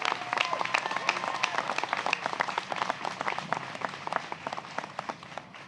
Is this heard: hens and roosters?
no